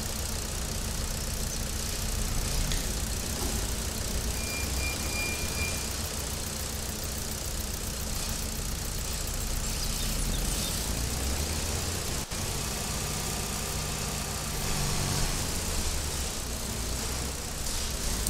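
A tractor engine in Farming Simulator 22 drones steadily and continuously at a constant loud level, with a low rumble under a noisy, broad mechanical hiss and a brief click partway through.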